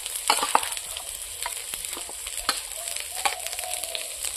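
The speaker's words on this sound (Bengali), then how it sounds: "মাংসটা এখন আমি চড়ে দিলাম।" Marinated chicken is going into a hot pan in a village kitchen for a desi chicken curry, giving a steady close sizzle with scattered crackles and stirring clatter, and no voices.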